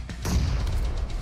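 A grenade detonates in a video game, a single muffled boom that swells after a brief click and rumbles low for about a second.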